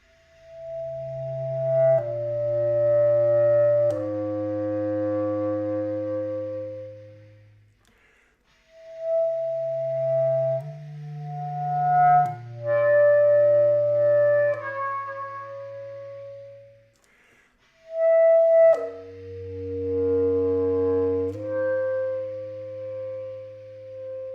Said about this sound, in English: Chris Tonkin, in his bass clarinet solo, has a beautiful ending where he uses these multiphonics, producing dyads, just 2 particular pitches.